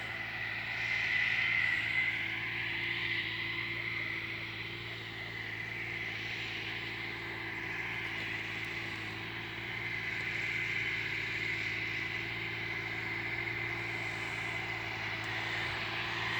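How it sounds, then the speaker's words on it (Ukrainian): A tractor drones steadily out of fog over a ploughed field, its low engine hum faint and distant, holding a constant pitch with a slight swell as it draws nearer. "як чуєте, потихеньку доїжджає. Тракторець десь він із туману"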